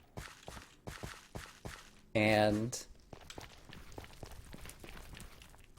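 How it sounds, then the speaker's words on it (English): Footsteps crunch at a steady walking pace across Netherrack in Minecraft, close and crisp. A voice briefly cuts in and a louder tonal sound interrupts partway before the steps resume. "the footstep sounds walking on Netherrack right now"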